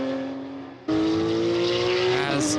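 A GT race car at Paul Ricard circuit howls past close by, its engine note jumping suddenly louder and holding a high steady whine before a quick downshift near the end.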